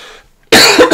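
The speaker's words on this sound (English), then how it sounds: "Excuse me, got a cough." A single sharp, loud cough bursts out close to the microphone after a brief quiet moment, followed by a couple of quick smaller coughs in a short fit.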